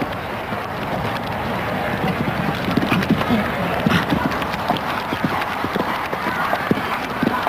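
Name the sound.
horses' hooves galloping on show jumping course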